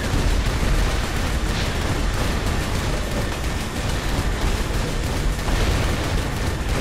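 Dense, continuous blasts and rapid gunfire in the video game Saints Row IV on Xbox One blur into a loud, chaotic roar that keeps going without a break, with no voices.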